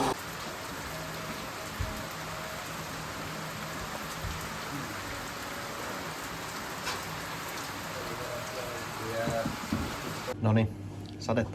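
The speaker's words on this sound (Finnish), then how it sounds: "Sitten toivotaan, että sade loppuu" Steady rain patters densely on a surface at Ballyhoura Trail Center in Ireland, a continuous hiss of drops with occasional louder taps, while a person speaks briefly near the end.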